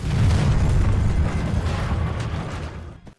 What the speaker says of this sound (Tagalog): Patuloy ang pagsabog sa paligid.